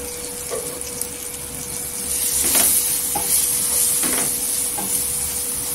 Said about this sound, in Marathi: छान असं तेलावर परतून घ्यायचं मसाले